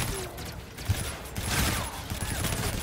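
Gunfire in the video game Call of Duty Infinite Warfare, a dense rattle of shots and bursts that keeps going across the whole stretch alongside game noise.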